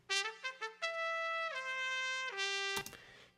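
High second trumpet line, recorded on an SP microphone, playing solo: a few quick staccato notes, then long held tones moving down in steps, bright and close, cut off sharply.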